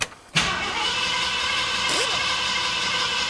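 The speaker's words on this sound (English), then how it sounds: "So now it's time to crank it." A vintage V8 engine with a newly changed carburetor is cranked by its starter, a steady close whirring drone that holds for about three seconds after a brief click, without firing and with no talking.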